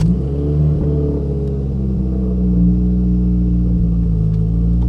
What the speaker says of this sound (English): I'm gonna let you guys hear this thing breathe and do a little startup here